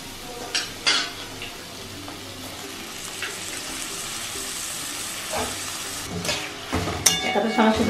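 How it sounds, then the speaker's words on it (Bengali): Onions fry in a pan for biryani with a continuous hiss and sizzle, broken by sharp clinks and scrapes of a spatula against the pan, loudest near the end. "এটাকে ভালো করে আমি ভাজবো, পেঁয়াজটা নরম হবে"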